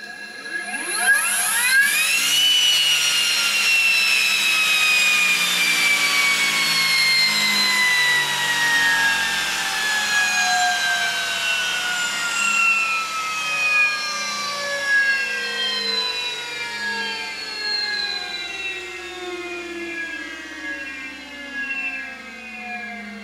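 An EMRAX228 electric motor with a grooved, holed rotor spins up to a loud, high whine that dominates throughout, with tonal harmonics slowly falling as it coasts down over about twenty seconds.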